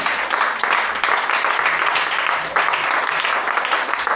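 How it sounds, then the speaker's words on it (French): A church congregation at an Easter service applauds together in a sustained burst of clapping, with scattered voices calling out beneath it. "On acclame le Seigneur Jésus."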